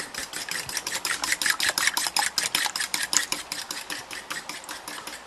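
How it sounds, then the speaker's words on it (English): Eggs being whisked in a bowl for a homemade KFC Famous Bowl, a quick rhythmic series of bright clicking strokes, close and steady, with no talking. "Last whisk here."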